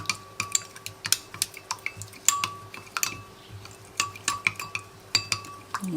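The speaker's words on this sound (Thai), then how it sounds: "มาผสมนะคะ ผสมกับน้ำตรงนี้นะคะ" A utensil stirs cornstarch mixed with water and coconut milk in a bowl, making quick rhythmic clinks against the side, close and clear, repeating steadily with no voices over it.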